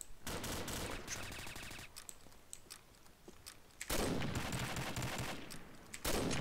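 Gunfire in the video game Combat Arms, loud bursts of rapid automatic shots and overlapping fusillades, a quieter stretch of scattered single shots in the middle, then dense heavy firing resuming near the end.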